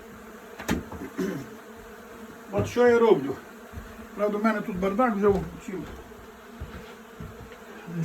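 Honeybees buzz around beehive frames as a close, continuous insect hum. Someone talks over it in bursts, with occasional knocks and clatter from handling the frames.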